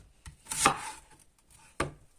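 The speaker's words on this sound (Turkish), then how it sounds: "Soğanlarımızı ince ince doğrayıp" A few sharp knife chops on a cutting board as onions are finely chopped, close and distinct, spaced unevenly with quiet gaps.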